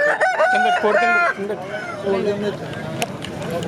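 Fighting rooster crowing at a busy poultry market, one loud, close, drawn-out crow that fades into chatter and clucking, with people talking nearby.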